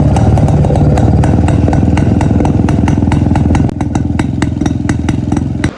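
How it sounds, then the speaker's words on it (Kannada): A Yezdi Classic D250 vintage motorcycle engine runs loud and close, a steady rhythmic thumping beat with mechanical clatter that drops slightly in intensity partway through, no voices. "ಈ ಗಾಡಿ ಸೌಂಡ್ ಕೇಳಿದ್ರೆ ನಿಜವಾಗ್ಲೂ ಮಸ್ತ್ ಆಗಿರುತ್ತೆ. ಒಳ್ಳೆ ರಿದಮಿಕ್ ಆಗಿ ಬರುತ್ತೆ ಬೀಟ್ಸು."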